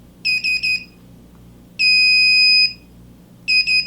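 Electronic beeps from a Classic Army ECS airsoft gun: a quick burst of three short high tones, then one longer sustained beep, then another quick triple, sharp and close with no talking.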